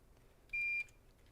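A digital timer gives one short, clear electronic beep as it is set, with a quiet room around it.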